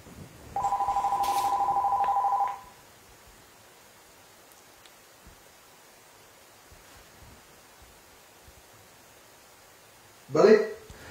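An outgoing Facebook call sounds a steady electronic dialing tone for about two seconds, followed by a long near-silent wait and a short burst of voice at the end.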